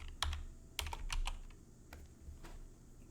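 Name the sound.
typing and pressing the tab key on a computer keyboard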